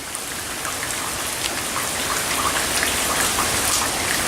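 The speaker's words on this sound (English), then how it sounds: "We have been experiencing slightly heavy rains." Heavy rain falling in Austin, Texas, on a cool, windy, slightly foggy day: a dense, steady hiss of drops, loud and unbroken from start to finish, with no voices.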